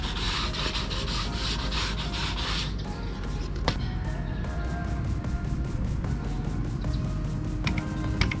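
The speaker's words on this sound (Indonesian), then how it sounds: "Kita akan amplas dulu" Continuous abrasive rubbing of sandpaper across car paint, steady back-and-forth scratching with a few sharp clicks, close up and without speech.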